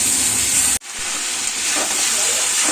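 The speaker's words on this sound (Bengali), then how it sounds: "মোচার আলুটা ভেজে নিচ্ছি।" Potatoes frying in a pan for a vegetarian banana flower curry, with a steady loud sizzle that cuts off abruptly for an instant, then resumes and continues evenly.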